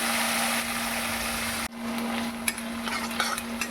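Onions frying in oil in a kadai, a loud steady sizzle that cuts off abruptly partway through and returns softer, with light clicks and spatters and a faint steady hum underneath.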